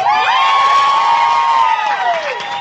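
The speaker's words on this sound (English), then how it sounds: "Can we get a round of applause for" A crowd at The Hotel Cafe cheers and claps for a band member after a live performance, with loud whoops and a sustained high shout carrying over the applause throughout.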